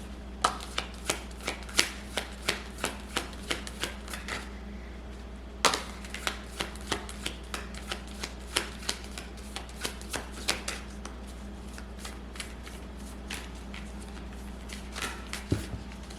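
Tarot cards are shuffled in steady rapid bursts, dozens of crisp riffling slaps in a regular rhythm over a low constant hum, close and fairly quiet, with a short pause midway.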